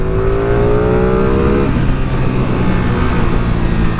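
A 2022 Ducati Streetfighter V2 motorcycle engine roars loud and near while riding on road or track, its pitch sliding downward as it eases off, then holding a steady rumble with no speech.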